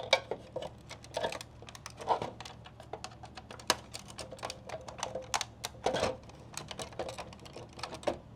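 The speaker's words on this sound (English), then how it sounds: "Taking your flathead, just work it around. This pops up pretty easy." A flathead screwdriver pries the map light bezel off a Tacoma's overhead console, producing quick, close plastic clicks and small snaps in uneven bursts.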